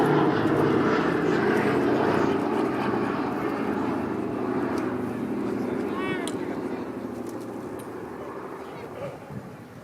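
The Boeing B-17 bomber Sally B flies at Cosford in June 2013, its loud, steady propeller-engine drone holding strong before slowly fading as it passes.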